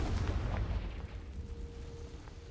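The Confringo fire spell goes off in a Harry Potter video game as a deep, booming blast. It hits hard at the start, then rumbles away over the next couple of seconds.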